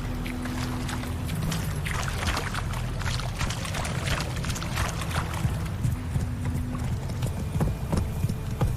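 The horse Roach from The Witcher 3: Wild Hunt walks with steady hooves clip-clopping. The hoofbeats are continuous and fairly close, set against a low ambient bed with a faint sustained tone.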